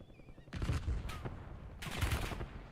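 Automatic gunfire from a shooter video game erupts in two dense bursts, the first roughly half a second in and a second near the end, loud and rattling over a low background hum.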